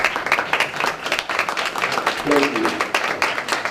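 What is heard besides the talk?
audience applause at a city council meeting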